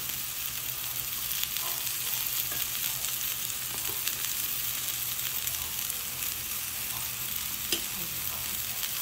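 Small potato balls frying in olive oil with garlic in a small pan, giving a steady, close, crackling sizzle with occasional stirring, no voices.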